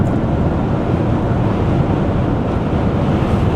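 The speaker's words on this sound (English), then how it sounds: "Look at those waves out there" Rough ocean waves on a cold, windy Michigan shore, a continuous low roaring surf mixed with buffeting wind on the microphone, loud and unbroken with no talking.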